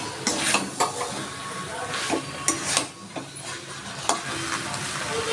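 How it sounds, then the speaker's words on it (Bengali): Chicken pieces dropped into a pan of cooked-down spice masala with sour yogurt, sizzling and frying with repeated stirring, spoon scrapes and clinks of cookware, close and steady without talk. "দেখুন মশলাটা আমার কষানো হয়ে গেছে, এবার আমি দিয়ে দিচ্ছি চিকেনটা।"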